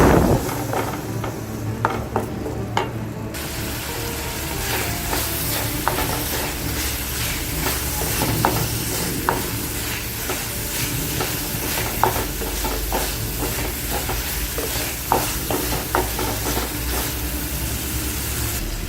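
Kerala prawn roast masala frying and sizzling in a pan while being stirred, with constant loud sizzle and repeated scraping stir strokes.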